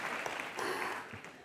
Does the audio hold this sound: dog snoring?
no